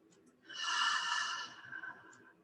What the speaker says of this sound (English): Just start with a couple deep breaths. Big inhale and exhale.